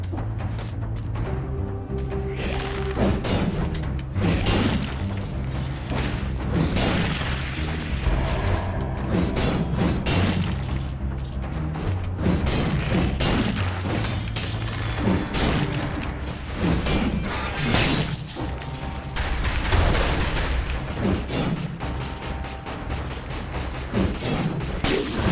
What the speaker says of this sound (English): Stupid exploding things.